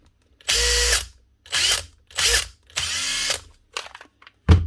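A repaired Makita DTD171 cordless impact driver runs in four close, loud bursts with short pauses between them, then a couple of brief final blips, its motor and hammering mechanism roaring steadily during each run.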